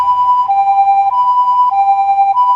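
An ambulance siren wails loud and close, a steady electronic tone wavering in regular repeating cycles about every half second, with no voices.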